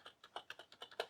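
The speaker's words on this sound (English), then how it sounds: "one of the things I didn't like about it was the spacebar. Found it a little bit noisy" Keys on a Sumvision Seeker Destroyer 60% gaming keyboard are struck in a quick even run of about eight crisp clacks, close and clear, including the rather noisy spacebar.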